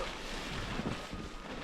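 Steady wind buffeting outdoors in a snowy Lapland setting, a continuous broadband rush with low gusty rumble, loud and close to the microphone, no voices.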